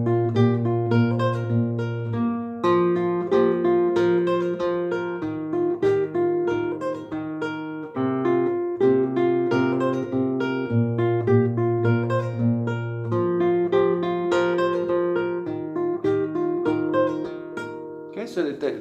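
An acoustic guitar is finger-picked slowly through a melody, with a steady low bass note under plucked notes, continuous and close with no talking.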